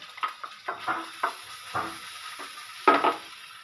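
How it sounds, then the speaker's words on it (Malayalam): Ground chicken paste goes into a pan of frying masala with black pepper, giving a run of short sizzles and scraping stirs in an uneven rhythm, with a louder burst of frying near the end. "നമ്മൾ വെച്ച ആ പേസ്റ്റ് ചെയ്ത ചിക്കനും ഇതിലേക്ക് ആഡ് ചെയ്ത് കൊടുക്കാം"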